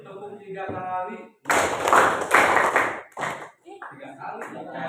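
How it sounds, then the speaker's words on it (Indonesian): Students in a classroom clap their hands in a quick run of crisp, loud claps, bracketed by a teacher's speech and followed by more talking. "Ayo dong. Tepuk 3 kali."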